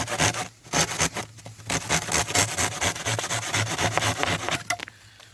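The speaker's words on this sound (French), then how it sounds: "On tient le bambou d'une main et on scie de l'autre, comme ceci." A hand saw rasps through hollow giant bamboo in quick, steady back-and-forth strokes, close and loud, ending with a final scrape.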